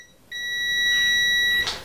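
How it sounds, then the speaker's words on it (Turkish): A multimeter in continuity buzzer mode gives one sustained high-pitched electronic beep lasting just over a second as the probes touch, close and clear against a quiet background. "Şimdi ölçü aletimizi öncelikle buzzer moduna alıyoruz."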